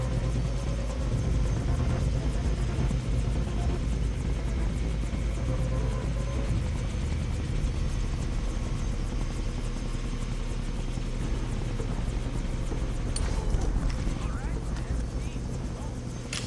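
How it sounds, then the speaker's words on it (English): In the video game Far Cry 3, a helicopter's steady rotor thrum and engine drone fill the scene throughout at moderate level, while voices speak over it. "Can't let them put Ollie in the chopper"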